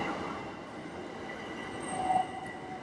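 A train rumbles past at close range with a steady rolling drone and a brief metallic wheel squeal near the end.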